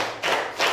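An audience at a religious gathering claps together in rhythm, two distinct group claps about a third of a second apart, close and fairly loud.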